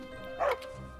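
A dog in the block-building game Minecraft gives a single short bark, moderately loud, over a steady background hum.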